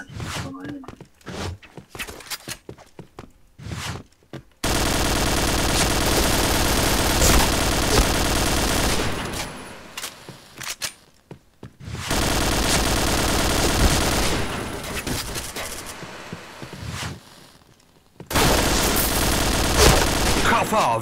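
Rapid bursts of automatic gunfire from the online shooter Point Blank come in long sustained volleys separated by brief pauses, loud and close, with players talking over the shooting.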